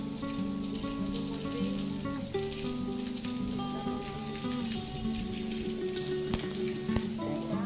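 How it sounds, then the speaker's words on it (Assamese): Steady rain falls at Jagannath Temple in Dibrugarh, a continuous close patter filling the whole stretch, with sustained tonal humming sounds running underneath it. "আৰু দেখিছে বৰষুণটো পৰি আছে"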